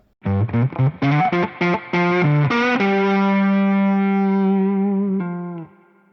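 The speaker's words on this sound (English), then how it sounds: "I have two pedals activated. One is the noise gate and one is the blues breaker" An electric guitar through a Fender Tone Master Pro with blues breaker overdrive and noise gate plays a quick run of gritty notes, then rings out on a long sustained chord that slowly fades.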